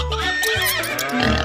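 A horse gives a loud, close neigh, a single quivering whinny that rises and falls over about a second on a farm.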